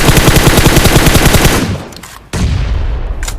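Loud, rapid automatic gunfire from a video game, sustained bursts for over a second, then a brief lull and a renewed stretch of shooting and blasts close up.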